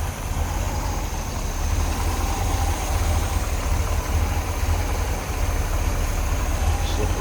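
A 427 big-block, 390-horsepower car engine idles steadily with a deep, even rumble, close up and continuous throughout, with no voices over it.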